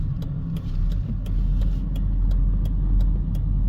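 A car rolls by close on a suburban East Las Vegas street near a high school, its steady low engine and tire rumble loud throughout, with light repeated ticking over the top.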